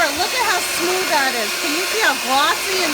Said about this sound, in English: I'm taking my time making sure that this is really beaten up because this is our last time we're using the beater